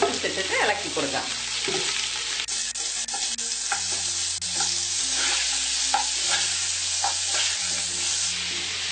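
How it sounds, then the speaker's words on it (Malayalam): Washed, drained chicken pieces frying with ginger-garlic paste for biryani, a continuous loud sizzle with scraping stirs throughout and a low steady hum beneath. "ഇനി ഇതിലേക്ക് കഴുകി ഡ്രെയിൻ ചെയ്ത് വെച്ചിരിക്കുന്ന ചിക്കൻ പീസസ് ഇട്ടിട്ട് ഇളക്കി കൊടുക്കാം"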